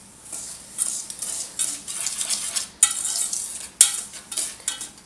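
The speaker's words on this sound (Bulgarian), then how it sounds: "и разбърквам." Stirring a lavender bath bomb mixture in a bowl: soft, steady scraping and swishing close by, with a few sharper clinks from the utensil against the container.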